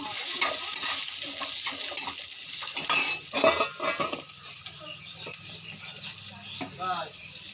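Mango pieces frying in a pan with turmeric and salt, a steady close sizzle broken by spatula scrapes and clinks of utensils against the pan, with a voice speaking briefly over it.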